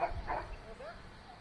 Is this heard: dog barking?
yes